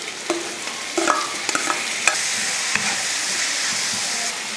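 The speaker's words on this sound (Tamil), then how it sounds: "உப்பு சேர்த்துட்டு நல்லா வதக்கி விட்ருவோம்" Onions and tomatoes sautéing in a pan give a steady hiss of frying close up, broken by several sharp clicks and scrapes of a spoon stirring, and no voices.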